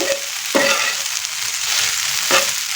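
Okra frying in a pan gives a steady, close hiss of sizzling oil, broken by two distinct scraping stirs about two seconds apart.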